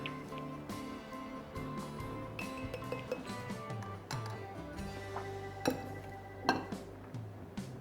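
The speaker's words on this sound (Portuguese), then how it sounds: "e eu vou colocar o repolho com a cenoura dentro do meu pote" Shredded cabbage and carrot going into a sterilized glass jar for a preserve, with soft scraping and a series of light clinks and taps against glass and utensils, close and quiet, no speech.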